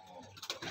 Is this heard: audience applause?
no